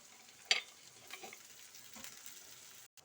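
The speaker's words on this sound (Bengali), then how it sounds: "পেঁয়াজটা ভাজা হয়ে গেছে" Onion and potato frying in a pan with salt, garlic and chilli, giving a steady soft sizzle with a few stirring scrapes near the start and no talking.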